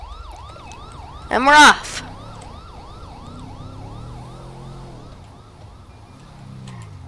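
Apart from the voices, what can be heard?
golf cart patrol siren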